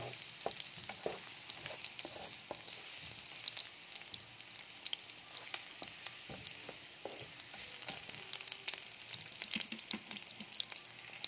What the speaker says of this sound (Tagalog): Mix natin yung mga sibuyas.